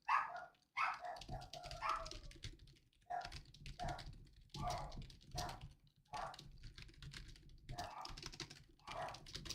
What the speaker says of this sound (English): Sorry about that if you can hear my dogs.